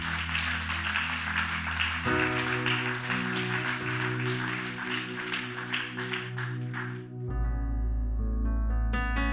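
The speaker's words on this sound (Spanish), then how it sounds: "Démosle un aplauso fuerte al Señor." A church congregation claps during a service over sustained music and organ-like chords, steady and full throughout, with the music shifting near the end.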